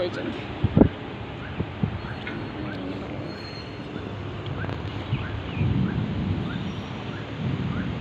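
Steady rain and gusting wind across a hillside, a dense continuous hiss with occasional low rumbles and a few louder knocks.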